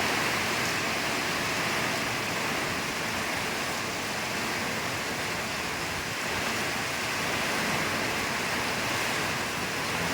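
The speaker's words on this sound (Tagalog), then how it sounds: "Bagyo po yata ito." A storm in Daet brings heavy rain and strong wind, heard as a dense, continuous roar of rushing noise that holds steady and loud throughout, with no talking.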